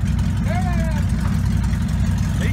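A Dodge truck's engine roars at a steady, loud drone while mudding, the low rumble continuous throughout with a brief whining rise partway through.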